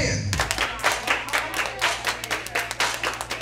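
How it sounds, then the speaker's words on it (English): Wedding reception guests clap their hands in a steady rhythmic beat along with line-dance music, each clap sharp and close. "Let me hear you clap your hands."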